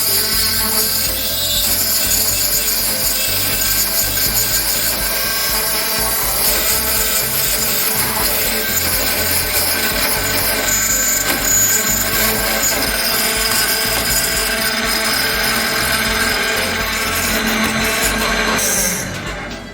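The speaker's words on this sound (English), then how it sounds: "Clean up the grinding debris in time, and grind multiple times per demand." An AiXun chip grinder works a touch IC or NAND chip with a continuous, steady, loud grinding and rubbing hum that keeps up evenly for nearly the whole stretch before cutting off abruptly at the end.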